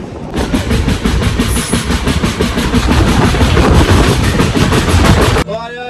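A passenger train rumbles loudly through Kurali station on a pilgrimage route to Anandpur Sahib, with a steady clattering rhythm of wheels on rail joints that continues without a break, then cuts off near the end into a brief quieter moment.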